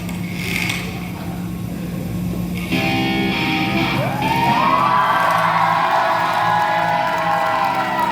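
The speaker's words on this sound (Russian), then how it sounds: "Эти аплодисменты вам, ребят!" Audience at the closing ceremony of an animation festival cheering and whooping, a lively crowd swell with applause that grows fuller partway through, a bright tonal sweep rising over it.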